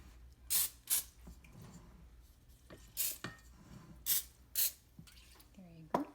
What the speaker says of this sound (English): We will use an oily spray to get it.